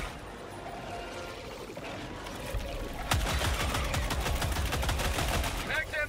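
Adjudicator rifle firing in Helldivers 2 against Terminids, a rapid automatic volley of loud, close shots that starts about midway and continues steadily to the end.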